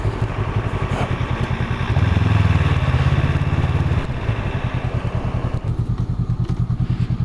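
A Honda Rebel motorcycle engine thumps steadily at low speed while riding over speed bumps, a close rhythmic pulsing beat with a brief deeper, louder swell partway through, and no talking.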